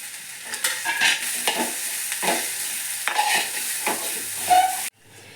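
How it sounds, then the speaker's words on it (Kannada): Grated coconut frying and being stirred in a pan for Mangalorean-style crab sukka, with steady soft sizzling and repeated scraping stirs close by, ending abruptly near the close. "ಇವಾಗ ತೆಂಗಿನ ತುರಿನ ಹಾಕ್ಬಿಟ್ಟು ಫ್ರೈ ಮಾಡೋಣ."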